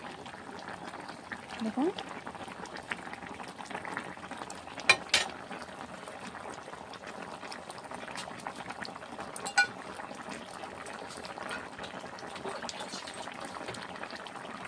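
Bowal fish with broccoli and potato cooks in a pan with a steady, even bubbling sizzle, broken by a few faint clinks, while a voice speaks briefly over it.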